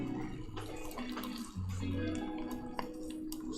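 Cream poured slowly into hot caramel makes a faint, soft liquid gurgle and bubbling, with small irregular splashy ticks scattered throughout.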